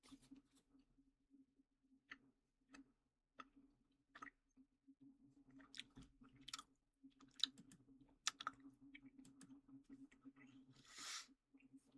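Chewy, sticky mouth sounds of someone working a chunk of Halloween candy gum, close and quiet, with soft clicks and squishes repeating irregularly.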